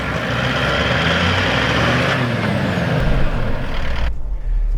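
Toyota Land Cruiser 76 Series 4WD engine rumbling steadily as it creeps onto Maxtrax recovery boards, a dense low drone with a brief puff of air near the end.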